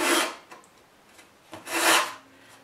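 A sanding block rasps along the edge of an Art Hobby IBIS Electro Glider wing being repaired, giving two short, close scraping strokes separated by a quiet pause.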